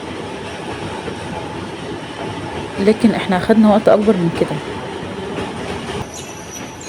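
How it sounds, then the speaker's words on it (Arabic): Alexandria's Raml tram rolls to a slow stop entering Mustafa Kamel station, with a steady rumble of wheels on rails and a brief burst of squealing and clanking midway, while a person talks over it. "وهنا الترام بيهدي علشان داخلين على محطة مصطفى كامل"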